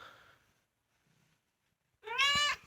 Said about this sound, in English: Just meow.